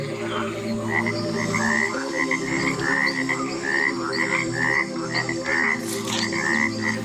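Cane toad croaking in a dense, rapid series of short pulsed calls repeating steadily over a constant chorus drone, close and clear with no speech.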